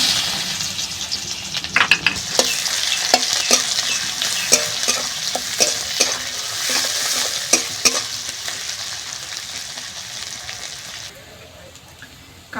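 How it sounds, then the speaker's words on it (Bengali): Chopped onions hit hot oil in a pan and fry with a steady bright sizzle, broken by repeated stirring scrapes and clinks of a utensil. Near and fairly loud, fading a little toward the end; no one speaks. "তেল গরম হয়ে গেছে, দিয়ে দিচ্ছি কুচনো পেঁয়াজ"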